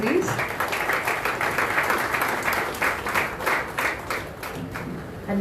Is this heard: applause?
yes